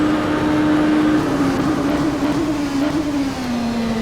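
Oreca 07 LMP2 race car in rFactor at Circuit de la Sarthe, Le Mans, its engine droning loud and steady as it pulls at high speed in a slipstream, pitch holding then easing slightly, continuous with no talk.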